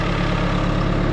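A Bobcat machine's engine idles with a steady low rumble close by, alone and unchanging.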